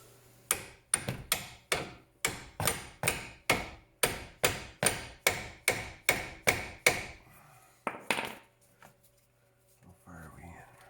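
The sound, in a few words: hammering a chisel on car control arm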